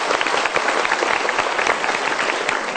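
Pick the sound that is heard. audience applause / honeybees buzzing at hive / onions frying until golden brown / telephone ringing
audience applause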